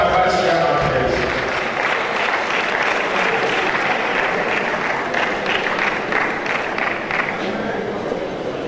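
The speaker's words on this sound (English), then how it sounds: "A round of applause for my Vice Chairman, please." An audience at a Nigeria Institution of Surveyors event gives the branch vice chairman a sustained round of applause, with dense, steady clapping lasting several seconds while a voice talks over it.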